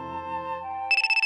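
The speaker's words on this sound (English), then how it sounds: "I was running away from reality when my phone rang." A phone begins ringing at the end, a bright rapid trilling ring pulsing several times, clear and close, cutting in after a sustained tonal musical chord.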